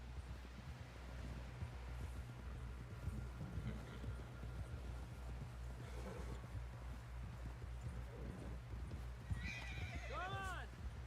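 Horse hooves clip-clop steadily at a walk in Red Dead Redemption 2 over wind and rustling, with voices talking and a horse whinnying near the end.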